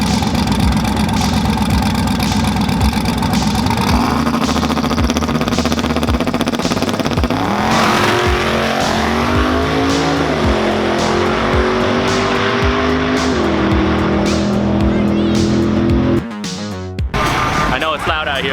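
A race car with a boosted engine runs loud and close, its steady roar rising and sliding in pitch through gear changes, with brief crackles and a sudden dip near the end.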